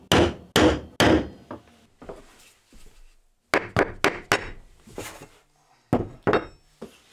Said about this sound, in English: tap with a mallet to lock them in place